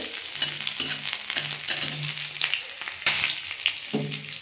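Garlic, dried red chilli and nigella seeds sizzle and crackle in hot oil in a pan for fried mustard greens, a loud steady frying hiss broken by stirring scrapes and spurts of popping.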